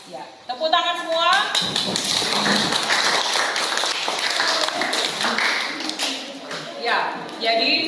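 A classroom of students claps together, dense overlapping hand claps that swell and carry on steadily, with some voices mixed in.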